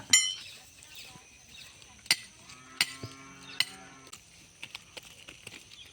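A calf moos a few times while being tied up in a farmyard. The calls are faint and low under scattered metallic clinks, rope or chain sounds and other rural background noise.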